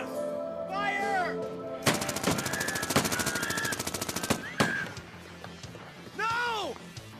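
Rapid machine-gun bursts from a horror action film, a dense run of loud close shots lasting a few seconds, with shouting voices and other movie sounds around it.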